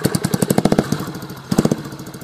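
A motorcycle engine that fails to hold its revs putters close by in a quick, uneven chain of pops, surging in short bursts and then sagging back to a rough idle.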